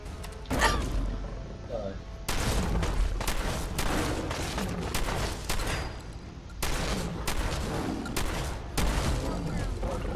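Shotgun fire in the video game Fallout 4, several loud booming blasts spaced a couple of seconds apart amid other gunfire and game noise, with a player talking underneath.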